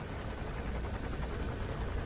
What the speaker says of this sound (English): just now the helicopter has to pass over your head